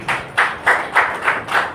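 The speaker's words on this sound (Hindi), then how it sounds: "तालियां बजती रहनी चाहिए।" Hands clap in a steady rhythm, about six loud, close claps a little under two seconds apart at a business seminar.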